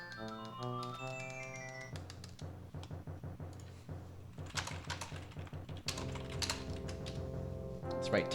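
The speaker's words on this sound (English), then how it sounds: "typing during a speedrun" Rapid clicking of computer keyboard keys during a Super Mario Bros. 3 speedrun, steady bursts of typing under loud game music and sound effects.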